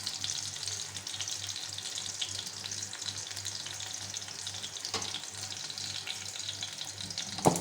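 Mustard seeds pop and sizzle in hot oil in a pan while cooking chilli pachadi, a continuous soft frying hiss with scattered small crackles and a sharper pop near the end, no voices.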